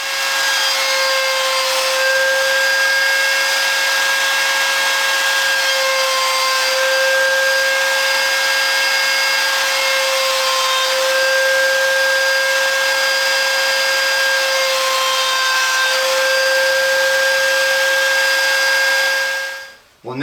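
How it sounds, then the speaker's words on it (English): A router cuts a dovetail profile into a wooden face plate clamped in a D4R Pro dovetail jig, a continuous high motor whine with grinding cutting noise running steadily until it stops abruptly at the end. "So let's route all those front faces"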